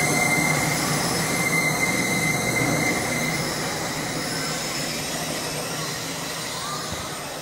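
A passenger train rolling through a small station, a loud steady rumble of wheels on rails with faint squealing, gradually fading as it continues on its way.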